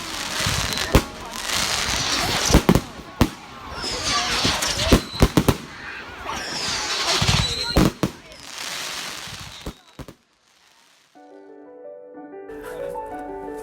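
Fireworks bang and crackle repeatedly in bursts, with sharp pops and fizzing showers at a moderate distance, followed by a brief quiet and some faint tones.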